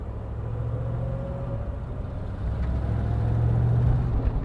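Mercedes-Benz 600 with its 6.3 litre M100 V8 running on the move, a steady low rumble that builds gradually louder toward the end, heard close with no talk.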